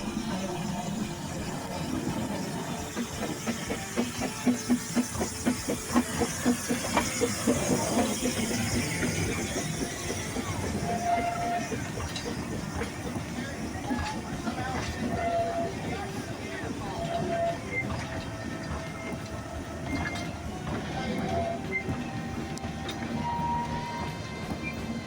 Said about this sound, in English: another train's crossing us